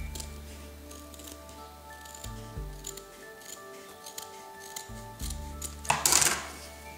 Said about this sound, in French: vous reprenez donc avec une bonne paire de ciseaux et vous découpez l'excédent